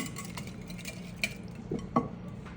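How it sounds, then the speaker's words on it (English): Stirring a summer salad with shallots in a bowl, a few soft clinks and scrapes of a utensil against the dish over quiet background, with no talking. "Then we're going to give this a little stir. You really want to break up all of those shallots in there."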